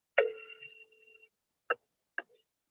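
A telephone ringing, heard as one long electronic ring tone that fades out, followed by two short separate bursts of tone, fairly faint with no talking.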